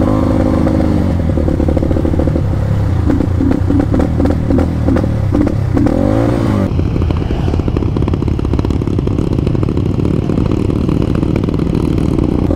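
A Rusi KRY 200 motorcycle being ridden on a rural road in the late afternoon, with a steady, loud mid-pitched engine drone and road clatter running throughout, shifting in tone partway through.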